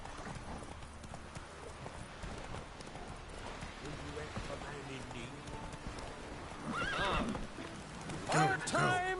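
Horse galloping in The Witcher 3, rapid clip-clop hoofbeats with whinnies and snorts, growing louder near the end, with a voice and other game sounds mixed in.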